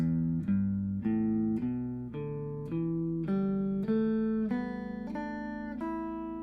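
Single plucked guitar notes ring out one after another in a slow, even rhythm, each note sustaining clearly until the next, with no talking.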